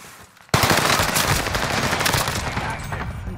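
Sudden loud automatic gunfire in Call of Duty: Modern Warfare, erupting after a quiet moment and continuing as a dense, sustained barrage of close shots.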